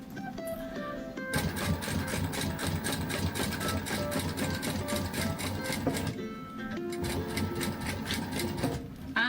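A sewing machine stitching a purse, rapid rhythmic needle clatter in fast mechanical bursts with a short pause near the middle, fairly close and steady, no talking.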